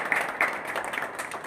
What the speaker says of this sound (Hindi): जोरदार तालियां दीपक के लिए